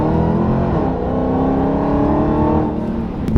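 An American muscle car with a 717-horsepower engine gives a loud, close, sustained rumbling drone that holds steady, then eases off slightly near the end.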